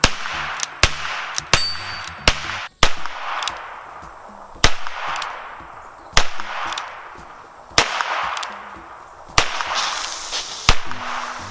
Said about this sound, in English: you can simulate that by cocking it,